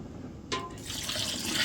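Liquid stock pours steadily into a pot for Thanksgiving dressing after a brief splash, a continuous close watery stream with no talking.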